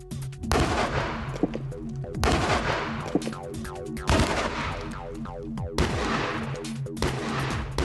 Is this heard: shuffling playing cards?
no